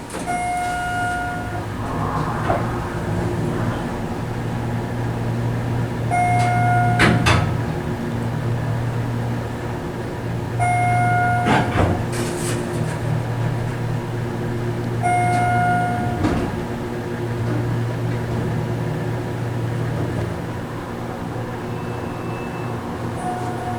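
Schindler MT hydraulic scenic elevator's motor runs in a Palo Alto parking garage, a steady low hum with a few brief tonal chimes and clunks over it, fairly close and alone.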